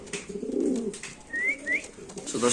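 Pigeons at a large fancy pigeon farm give low, throaty coos near at hand, with a pair of brief thin chirps in between.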